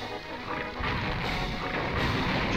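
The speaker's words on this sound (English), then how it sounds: "Just gotta avoid all these bombs he's throwing at me" Bomb blasts in a Donkey Kong 64 boss battle in the Angry Aztecs level, heavy booming explosions rolling one into another loudly and continuously, with no break in the dense rumble.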